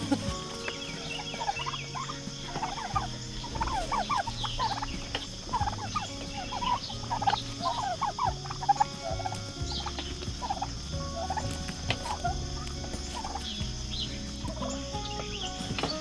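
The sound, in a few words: broad-breasted white turkeys gobbling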